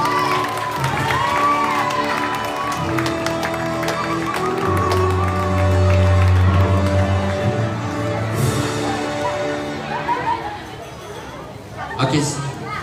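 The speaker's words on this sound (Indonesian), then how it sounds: "Kita berikan aplaus yang mulia." A large crowd of children cheers, shouts and claps at an outdoor opening parade for a Catholic children's camp in Sumbawa, with loud chatter, music tones and voices layered over the scattered applause.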